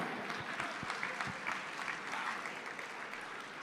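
Steady audience applause fills a charity auction gala after a winning bid, dense clapping sustained throughout at moderate level with a few louder claps near the start.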